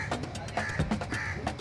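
A crow caws in a series of sharp, fairly close calls with short pauses between them, standing alone without any speech.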